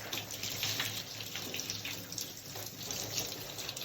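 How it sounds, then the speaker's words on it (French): Lukewarm running water rinses a child's Afro hair, a steady splashing stream like a faucet pouring, continuous and close with no talk. "on rince les cheveux avec de l'eau tiède"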